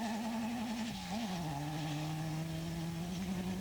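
A Marlboro-liveried Toyota rally car running the Jebel Ali port stage of the 1984 Dubai International Rally, its engine a steady, fairly distant drone with a brief dip in pitch before settling back.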